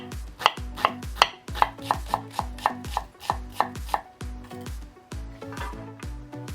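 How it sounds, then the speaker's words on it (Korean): A knife minces half an onion on a cutting board in quick, evenly spaced chops, about a dozen crisp close knocks in a steady rhythm with no talking. "양파는 이렇게 끝부분 1cm 정도를 남겨서 가운데 칼집을 내주고 다져주면 좀 더 잘 다질 수 있습니다"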